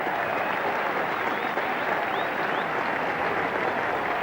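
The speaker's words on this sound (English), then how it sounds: "And the crowd enjoying it. They've sprung to life." Spectators at Lord's applaud shots during the fourth day of the 1983 England v New Zealand Test match. Steady, fairly faint applause rolls on evenly from a distance without pause.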